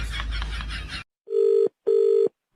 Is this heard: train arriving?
no